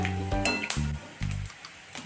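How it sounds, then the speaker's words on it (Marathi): Nylon sabudana (sago pearls) frying in hot oil, a soft steady sizzle broken by a few metallic clinks and scrapes of a utensil against the pan, close and clear with no talking. "अशा पद्धतीने आपण राहिलेला नायलॉन साबू सर्व तळून घेऊया"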